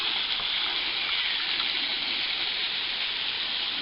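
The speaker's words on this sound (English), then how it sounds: "Here we are at the bottom of Adelina Falls. Pretty little waterfall." Water pours steadily at the foot of Adelina Falls, a small rainforest waterfall, as a constant close rushing hiss that holds even throughout, with no voices over it.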